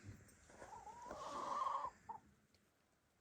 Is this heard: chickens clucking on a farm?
yes